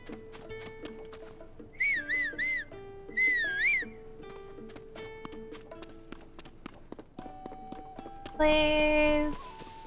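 Horse hooves clip-clop at a steady trot in Zelda: Tears of the Kingdom, with a whistle and a brief whinny over the rhythmic hoofbeats and a player speaking.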